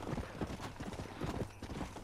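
Hooves of a horse called Jarvis, ridden in the game Red Dead Redemption, clip-clop in a quick, steady trotting rhythm along a trail, close and fairly faint, with soft ambient noise behind.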